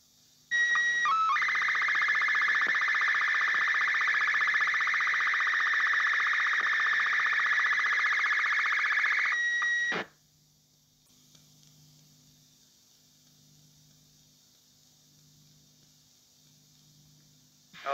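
Slow-scan TV image signal transmitted by radio from the Space Shuttle Challenger in 1985, a steady, loud electronic whine of tones lasting about nine seconds before cutting off abruptly, followed by faint static.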